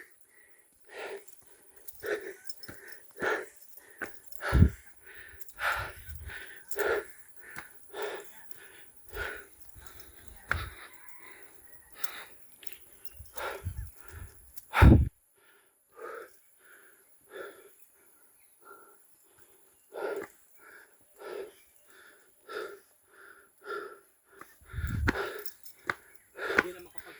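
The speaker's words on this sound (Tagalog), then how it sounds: "Hingal na guys." Heavy, ragged panting from someone who has just hiked up Tayak Hills in Rizal, Laguna: loud, close, rhythmic gasping breaths with occasional sharp sniffs and exhales, running throughout.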